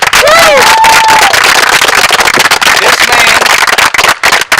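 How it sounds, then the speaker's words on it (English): A crowd cheers and applauds loudly at a school sports field dedication, with close whoops, shouts and a rolling mass of clapping that runs throughout, dipping slightly near the end. "give this man the biggest round of applause you've ever given in your entire life"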